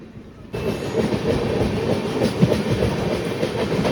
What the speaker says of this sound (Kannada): ತಮಿಳ್ನಾಡಿನ ಹೊಸೂರಿಂದ ನಮ್ಮ ಯಶವಂತಪುರ ಜಂಕ್ಷನ್ಗೆ ಬರೋ ಡೈಲಿ ಮೆಮೊ ಟ್ರೈನ್ ಇದು.